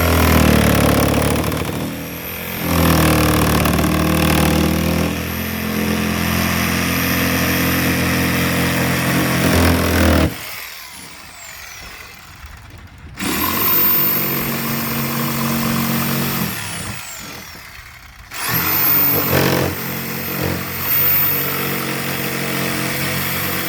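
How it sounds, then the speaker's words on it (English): A jigsaw cuts a black walnut board for a charcuterie board, giving a loud, harsh, buzzing drone that runs for about ten seconds, stops briefly, then resumes in two more long bursts. "So let's go and throw this on here with a jigsaw and see what we can do."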